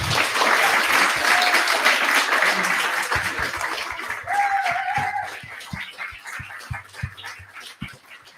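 Applause from an audience at an artist talk with young photographers, a dense wash of clapping that fades over several seconds into sparse scattered claps, with a dog whimpering faintly in the room.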